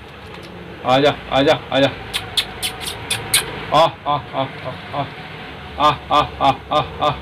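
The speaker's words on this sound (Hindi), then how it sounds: "वो देखो नर भी गुटक रहा है" A male pigeon coos in several short rhythmic bouts at close range, mixed with a person speaking nearby.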